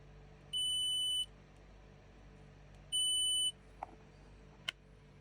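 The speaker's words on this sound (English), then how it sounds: "using my multimeter to check that the red wire was connected to the centre of the jack plug" A multimeter beeps twice in continuity mode while soldered wires to a jack plug are checked, each a sustained high tone lasting under a second, followed by a couple of faint clicks.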